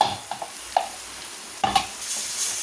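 Onions sautéing in a pan for a spicy Tamil chicken fry, heard up close as a few scraping stir strokes and light clicks over a faint, steady sizzle, with no voices.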